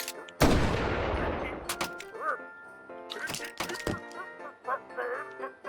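Guns being test-fired in a video game: a loud, sharp blast that rings out and decays, followed by scattered shorter shots and clicks, with a person talking in between.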